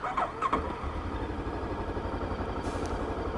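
A Bristol Venturi 500 motorcycle engine cranks and catches, then settles into a steady, close idle with a low rhythmic throb and a faint high whine late on.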